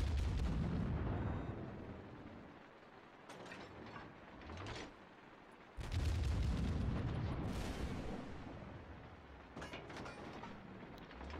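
Naval gunfire in World of Warships from the battleship Des Moines, with heavy, rumbling salvos rolling in bursts, mechanical clanks, and a big loud volley partway through, all fairly distant and without talk.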